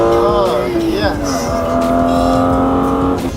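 BMW E36 M3 Evolution driving on the road, a loud steady engine note climbing and settling through gear changes with strong harmonic drone, continuous and close throughout the short stretch.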